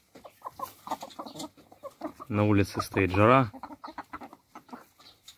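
Laying hens cluck loudly in a burst of close, harmonic calls inside a chicken coop, with someone talking before and after and fainter clucks in the background.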